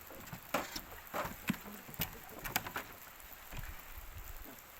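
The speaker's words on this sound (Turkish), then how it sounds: "Yağmur başladı hamdolsun." Soft patter of rain with scattered sharper drops tapping nearby, quiet and steady in the background.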